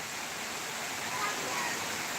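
Steady rain in the Bijwadi area, a dense, even hiss of falling water that holds constant throughout at moderate loudness with no clear voices.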